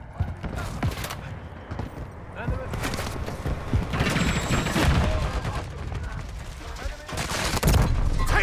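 Gunfire crackles in bursts during a Call of Duty Modern Warfare 3 multiplayer match, loud sharp volleys and automatic fire scattered across the stretch with shouted callouts mixed in.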